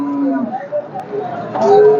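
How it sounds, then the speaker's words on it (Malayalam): An HF crossbreed cow with her calf at a cattle market gives a short moo-like call, with a brief higher bleat near the end, amid background crowd noise. "ചന്തയ്ക്ക് എത്തിയിട്ടുള്ള ഒരു എച്ച് എഫ് ക്രോസ് ആയിട്ടുള്ള ഒരു പശു അതിന്റെ കുട്ടിയും കൂടെയാണ്"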